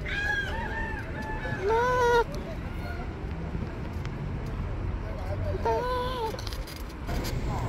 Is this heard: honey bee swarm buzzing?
no